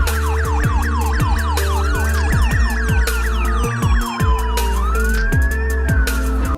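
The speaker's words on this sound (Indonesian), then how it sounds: "Wow, ada motor patroli polisi." Toy police patrol motorcycle siren wailing nonstop, a loud, close electronic whoop cycling rapidly and then switching to slower rising-and-falling sweeps, with clicks of plastic toys underneath.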